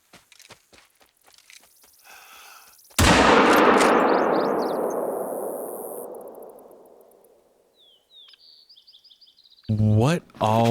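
A single loud rifle shot fired at an animal in The Hunter: Call of the Wild on the Silver Ridge Peaks map, cracking out and rolling into a long fading echo across open terrain, with faint outdoor sounds before it and electronic tones afterward.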